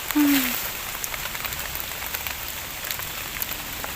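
Rain patters steadily on the ground and leaves while white mushrooms are being gathered in a forest, a brief tonal squeak early on over the even wash of drops.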